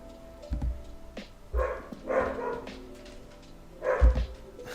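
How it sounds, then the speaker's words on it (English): A dog barks and yips a few times in short bursts, somewhat muffled from upstairs, with quiet gaps between. "that's the doggo barking upstairs"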